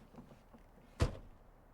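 Car door closing in GTA San Andreas Definitive Edition, a single short dull thunk standing alone against a faint quiet background.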